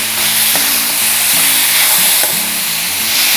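Vegetable palya frying in a pan, a steady broad sizzle running throughout at close range with occasional faint stirring clicks and a low hum underneath, no voices.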